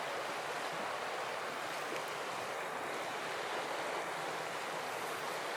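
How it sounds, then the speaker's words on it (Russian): A river flows past a wood-fired sauna on its bank in Urho Kekkonen National Park, Finnish Lapland, as an even, broad rushing hiss, fairly faint and unbroken, with no voices. "Вот река."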